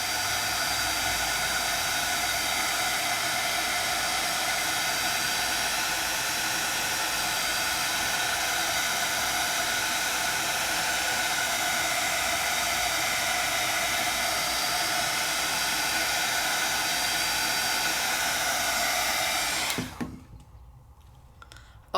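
A handheld heat tool blows hot air onto craft metal in a steady, loud rushing hiss for about twenty seconds before cutting off abruptly, with no talking over it.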